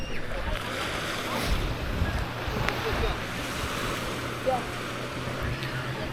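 A south wind blows across a beach with waves washing ashore, a steady broadband rush from start to finish with occasional gusts.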